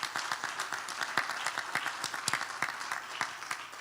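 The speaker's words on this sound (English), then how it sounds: "I please would like you all to give her a round of applause in her absence." Steady applause from a conference audience at a Pan-African leadership graduation and awards ceremony, many hands clapping densely and continuously at moderate loudness with sharp individual claps standing out, no talking.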